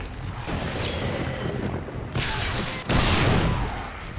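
Explosions in the 7 Days to Die video game, heavy booming blasts in rapid succession with loud bursts around the middle and end, dense and close, with no talking.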